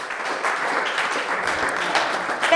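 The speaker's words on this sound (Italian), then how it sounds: "Fatevi un applauso e cambiate..." Applause from a studio audience at a game show pitting two Pro Loco village teams against each other, a dense, fairly loud wash of clapping filling the whole moment.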